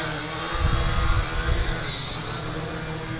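Blades of a Zero Gravity Talon HD drone spin up for takeoff with a loud, steady high-pitched whine and a low whirring rumble beneath. The sound stays fairly constant and shifts slightly in pitch, with no talking.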